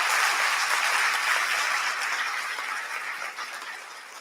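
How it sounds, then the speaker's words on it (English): Crowd applause at a university presidential investiture ceremony, a wash of many hands clapping at once that gradually thins and fades out. "Let's give them all a round of applause."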